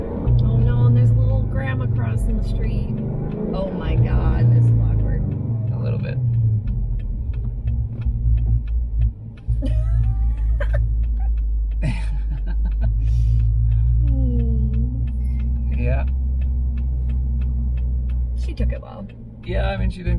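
A car's engine, newly fitted with a phase lock, rumbles deep and steady while driving, rising at times, with people talking over it throughout.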